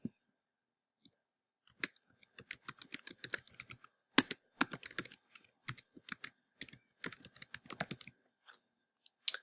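Someone types on a computer keyboard, entering information into an online sign-up form: quiet, close, irregular bursts of key clicks with short pauses between runs.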